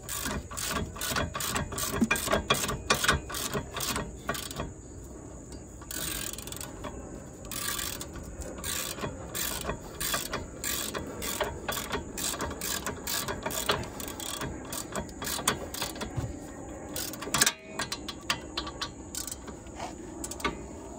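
Ratchet tightening the rear brake bolts on a 2020 Ford Focus, long runs of rapid close clicking with brief pauses between strokes, loud and continuous.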